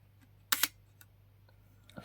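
Agfa Billy Clack folding art deco camera shutter being cocked and fired: a sharp double mechanical click near the middle, with a few faint small clicks before and after, close and otherwise quiet.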